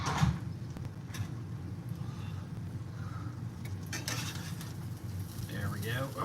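French onion grilled cheese sandwich sizzling steadily in a pan, with a brief clatter as it is flipped, the frying continuing close and moderately loud throughout.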